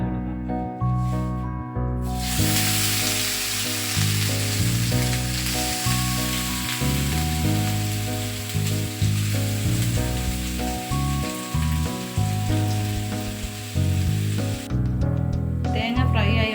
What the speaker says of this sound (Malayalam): തേങ്ങ ഫ്രൈ ആയി വന്നിട്ടുണ്ട്.